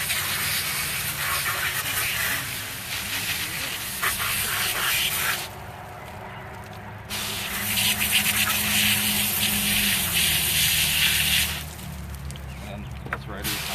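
A pressurized water hose sprays steadily and loudly while washing freshly harvested negi (green onions) in a field, the rushing hiss dropping away briefly twice before resuming.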